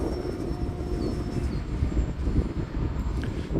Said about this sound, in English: This is an old discontinued airplane that I picked up from the RC Sailors